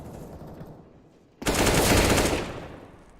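An AK-47 fires a loud, sustained automatic burst of about a second in a Counter-Strike match on the Train map, rising abruptly over quieter game background noise and then fading.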